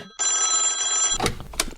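Telephone bell ringing as a call is put through to a counselling line, a steady electronic ring lasting about a second, followed by a couple of brief knocks or clicks.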